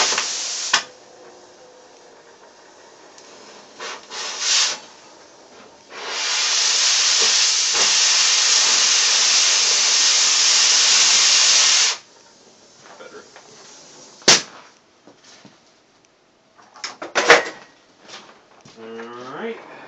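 A torch flame set up for brazing in a forge roars as a steady, loud hiss for about six seconds, framed by scattered clanks, bumps and talk before and after.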